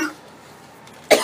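A single person coughs once, short and sharp, near the end after a near-silent pause.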